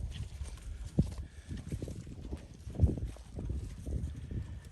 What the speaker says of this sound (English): That's where those cows are coming from.